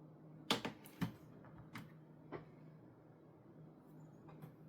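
Clicks from a newly connected novelty computer keyboard, a handful of sharp separate keystrokes spread irregularly over a low steady hum, close and fairly quiet.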